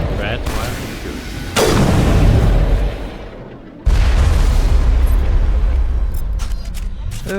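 Gunfire in the video game Mass Effect 1 Legendary Edition: loud, booming shots and bursts that hit sharply at about 1.5 and 3.8 seconds, then keep rumbling at a dense, sustained roar, with some talk mixed in.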